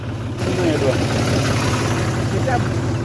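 A steady low tractor engine idles throughout on a farm field, a continuous rumbling drone at close range with no breaks.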